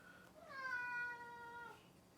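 A cat gives a single drawn-out, clear meow close by in a quiet room where painting is under way, rising then falling over about a second and a half.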